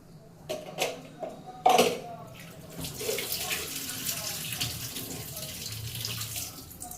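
Tap water runs steadily into a cooking pot for rice, a broad continuous rush after a few short knocks and clatters at the start.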